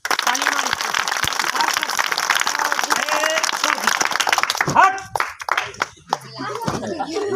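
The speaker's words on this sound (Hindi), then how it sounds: "रेडी होइए, ताली मारिए।" Audience at a street snake-charmer (madari) show clapping in a dense, continuous patter of applause, with a voice calling out over it and the clapping thinning near the end.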